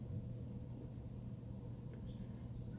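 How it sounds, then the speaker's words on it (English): Thunder during a thunderstorm rolls as a faint, steady low rumble heard from indoors, continuous and distant without any sharp crack. "We're having a thunderstorm right now"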